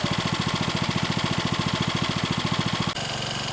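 A Honda WX10 engine on a Proline highbanker idles with a steady, fast, even chugging pulse, close and fairly loud, then abruptly drops to a quieter, smoother hum near the end; nobody speaks.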